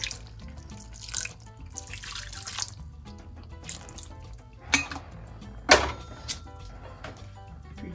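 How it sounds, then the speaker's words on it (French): Water pours and splashes into a cooking pot while red fried rice with mutton is prepared, a steady running stream with a few sharp clinks of the pot, close by and moderately loud. "On va mettre un peu d'eau."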